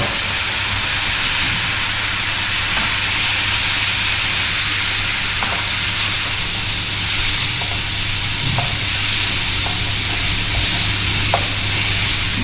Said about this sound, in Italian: versiamo il vino bianco